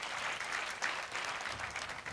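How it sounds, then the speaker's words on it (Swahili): Audience clapping to welcome a Sheikh at a mentorship and leadership congress, a steady dense patter of many hands filling the room, with no voices over it. "Simpigie Sheikh makofi."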